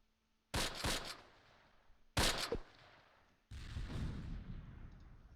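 Gunfire from a Close Combat battle: two sharp bursts of shots a second apart, then a longer sustained volley of firing with a rumbling tail, moderately loud with no speech.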